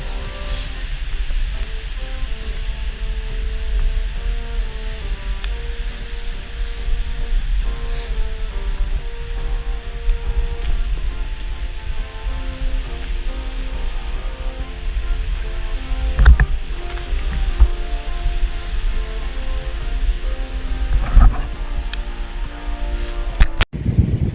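Strong wind and waves from a storm at a carp fishing spot roar continuously, loud and close, with a few sharp knocks and gusts.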